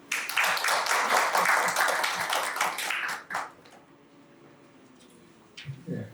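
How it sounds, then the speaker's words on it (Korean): An audience at a Korean science and technology policy forum applauds to welcome a professor to the stage, a dense burst of clapping for about three seconds that stops abruptly, followed by quiet room tone and a few faint taps. "큰 박수로 박성욱 교수님을 모시겠습니다"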